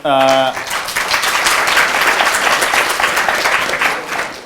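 Loud, sustained applause fills a hall during a political conversation event, dense clapping steady throughout; a voice speaks briefly at the very start before the clapping takes over.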